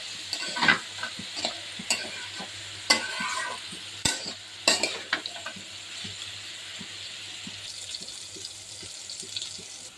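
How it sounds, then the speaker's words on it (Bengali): Onion and garlic fry in a pan for a bitter gourd dish, with a soft steady sizzle broken by intermittent scraping stirs and clinks of a spatula, close by. "এটা উস্তে ভাজির জন্য পেঁয়াজ আর রসুন ভেজে নিচ্ছে"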